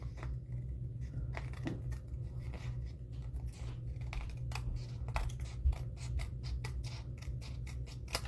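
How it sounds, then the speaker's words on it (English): Scissors trimming overhanging edges from a stamped paper craft panel, a quick run of small crisp snips and paper rustles, close and steady with no talking. "So I'm just cutting off these edges"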